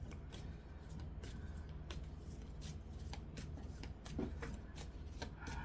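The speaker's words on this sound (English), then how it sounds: "Oh, I hate these long shuffles." A deck of cards being shuffled during a late-night card reading, a faint, steady run of soft riffling flicks heard alone.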